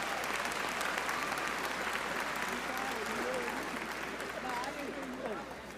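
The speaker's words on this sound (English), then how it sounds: "let's have a round of applause for Mr." Crowd at a high school graduation giving a round of applause, sustained and fairly loud, with cheering and voices mixed through the clapping as it slowly tapers near the end.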